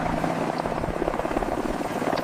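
A helicopter passes overhead with a loud, continuous rotor and engine drone, steady throughout and fairly close, with no speech over it.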